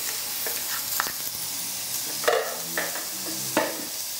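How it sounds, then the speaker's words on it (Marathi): Salted pork for a Goan stew sautés in a pan with a soft, steady sizzle, broken by a few distinct clatters of stirring at irregular intervals, close and fairly quiet, with no talking. "आता आमी तितून ते मांस घाले आमी सॉल्ट लावन दवरलेले न्हू ते मांस घाले"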